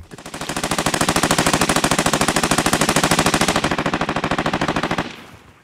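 Rapid automatic gunfire in the video game Warzone, a long unbroken burst of evenly spaced loud shots lasting about five seconds, then stopping.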